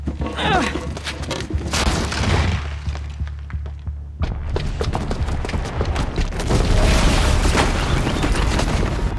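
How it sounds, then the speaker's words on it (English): A bomb booby trap explodes in Horizon Zero Dawn, a deep booming blast with heavy low rumble that swells again after a brief lull into a dense, sustained roar of debris and fire lasting several seconds. "the booby trap on the bomb downstairs is gonna get set off"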